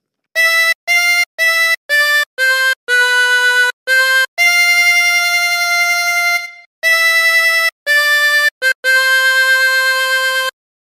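A harmonica plays a phrase of the carol O Come All Ye Faithful, loud and close with no talk. It runs as short separate blown notes, then a long held tone, a gap, and more notes in a clear rhythm.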